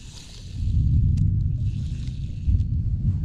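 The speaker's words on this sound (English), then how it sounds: "Some deep damn thunder now." Deep thunder rumbling outdoors beside a pond during bass fishing, a low, continuous roll swelling in over a couple of seconds and sustaining, with faint wind and small handling noises on top.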